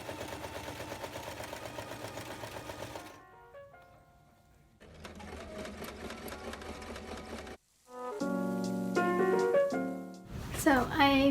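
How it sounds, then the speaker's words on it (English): A sewing machine running straight and zigzag stitches on blouse fabric hums in rapid, even bursts with short pauses between runs, with background music in places. "So I'm gonna do a straight stitch down the edge, and then I'm gonna do a zigzag stitch so it doesn't fray at the ends like this."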